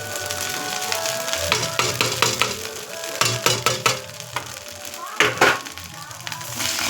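Rice and vegetables fry in oil with cardamom and cloves while being gently stirred, a steady sizzle broken by scraping and clattering strokes of the spoon against the pan, louder in bursts near the end.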